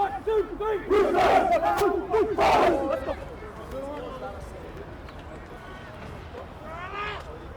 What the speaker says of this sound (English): Good crowd here at Ellerslie Domain today for the major semi-final.